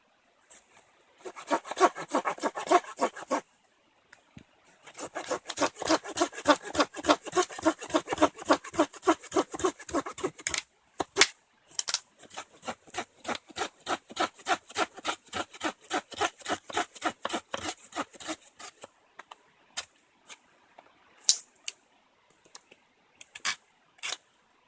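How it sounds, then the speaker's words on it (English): A hand saw cuts through wooden poles outdoors by a mountain river, with long runs of quick, rhythmic rasping strokes, a few pauses, and isolated strokes near the end; close and clear, with no talk. "So I'm just going to saw up a few poles."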